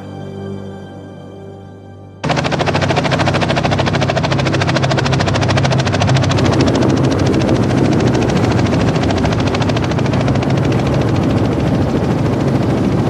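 A helicopter flying over Denali in Alaska. After a quieter opening, its rotor roar cuts in abruptly, loud and close, with a steady, fast chopping pulse that holds to the end.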